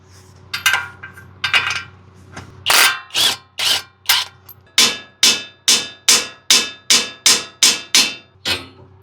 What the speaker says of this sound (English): This definitely took a couple really hard whacks to the knuckle.